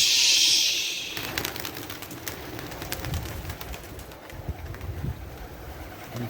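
Pigeons at a loft, Budapest highflyers and homing birds, coo in soft low repeated calls close by, with rustling and breezy outdoor noise throughout after a brief hiss at the start.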